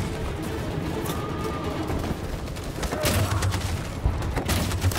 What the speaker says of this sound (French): Cette saloperie de mitraillette tire sur tout ce qui bouge.